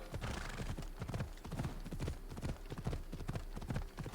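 Steady rhythmic clip-clop of horse hooves walking at an even pace in Assassin's Creed: Odyssey, close and continuous, with a faint background hum.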